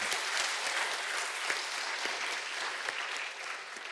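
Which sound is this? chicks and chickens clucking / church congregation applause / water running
church congregation applause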